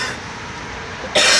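A single sharp cough bursts out near the end, loud and close, after a stretch of low background hiss, set off by opening a tub of pre-workout powder.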